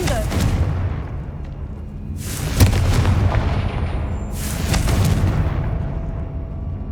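Confringo explosion spell in the video game Hogwarts Legacy bursts twice, each a loud booming blast with a rushing, crackling tail, spaced a couple of seconds apart over a steady background rumble.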